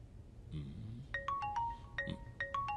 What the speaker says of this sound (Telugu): ఫోన్ వస్తుందేమో చూడండి.